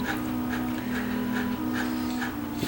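A dog whimpers in soft, repeated high cries, with a low steady drone running underneath throughout.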